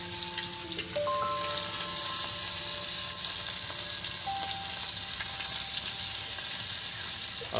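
Masala chicken frying on a clay stove, producing a dense, steady sizzling hiss heard close and fairly loud, with faint tonal sounds in the background.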